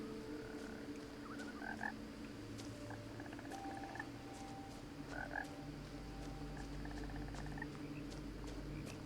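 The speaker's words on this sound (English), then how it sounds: "I hear a frog." A frog croaks in the video game What Remains of Edith Finch. Soft, scattered croaks repeat every couple of seconds over a low, quiet ambient hum, with no voices.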